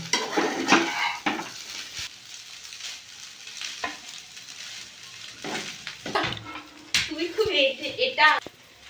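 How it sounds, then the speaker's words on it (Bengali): Chira pulao of flattened rice is stirred with a little ghee in a pan: sizzling frying and scraping spoon strokes on metal, with intermittent talking over the cooking. "অল্প একটু ঘি দিয়ে দেবো সামান্য ভালো করে আমি দু মিনিট নাড়িয়ে নামিয়ে নেব"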